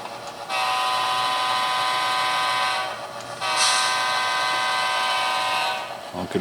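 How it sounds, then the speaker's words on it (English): A model train locomotive's horn sounds two long, steady blasts close by, separated by a short gap and fairly loud over quiet surroundings. "Honking for the weirdos over here in the woods."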